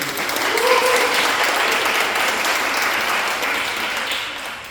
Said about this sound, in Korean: 왜 박수 한번 붙여볼까요?